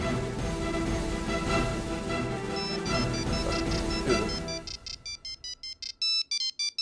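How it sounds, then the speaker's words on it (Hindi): A telephone ringtone plays in a Hindi TV drama household scene, first mixed under background music, then a clear repeating electronic ring pattern with short bursts and pauses near the end. "जिज्ञासा का फोन है।"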